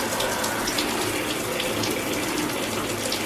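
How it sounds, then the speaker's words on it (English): Water runs steadily and forcefully from a shower tap, a continuous close hiss and splash with no pauses or voices. "And make sure that the cold water is"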